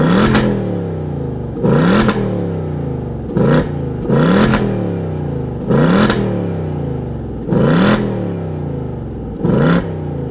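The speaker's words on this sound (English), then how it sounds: "let's fire up this V8 and hear what it sounds like." Ford Mustang GT 60th Anniversary Edition V8 revved in sharp, loud bursts, about seven quick blips spaced a second or two apart over a steady idle rumble, with no talking.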